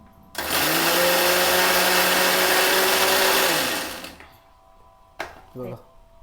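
A kitchen mixer grinder whirs loudly and steadily for about four seconds as it grinds dried jawla shrimp with chilli, then winds down and stops, followed by brief clatter.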